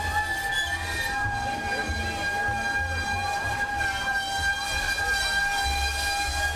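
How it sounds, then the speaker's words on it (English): A train on a live railroad rolls into Union Depot at night, a loud steady rumble of wheels and cars with sustained squealing tones running through the whole stretch. "that is a live railroad. And here it is coming into Union Depot last night."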